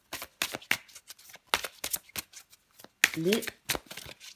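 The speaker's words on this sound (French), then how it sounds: "je prends encore une petite carte pour vous" A tarot card is drawn from a deck with a string of crisp papery flicks and snaps, close up and lively, like cards being shuffled and pulled.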